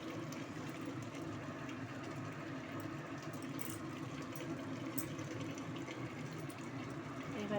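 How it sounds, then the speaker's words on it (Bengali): Bengali rui fish curry gravy simmering in a pan, a low continuous bubbling rumble with soft irregular pops, steady and fairly quiet, heard close up without talk. "ঝোলটা আমার ফুটে উঠেছে"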